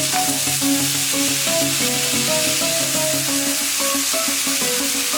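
Shallots and sliced curry leaves sizzle steadily in hot oil while frying, a continuous bright crackle with occasional stirring, close and fairly loud with no voices.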